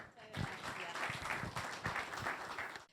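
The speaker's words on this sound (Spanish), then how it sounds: "Catalina, un aplauso, por favor." Applause for Catalina at a university seminar on poverty and the media, a room of clapping that starts abruptly and holds steady for a few seconds, fairly close.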